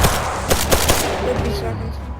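In a VR military shooter, a quick cluster of gunshots rings out in the first second, followed by a quieter, rumbling tail with faint background activity.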